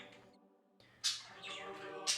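Pet birds let out sharp squawks and chirps in two loud bursts after a brief lull. A quieter, faint background hum continues between the calls, and nobody speaks.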